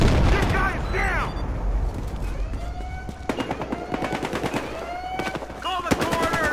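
Rapid, loud automatic gunfire from the video game Battlefield Hardline, heard as dense bursts and single shots mixed with shouted voices and game effects throughout.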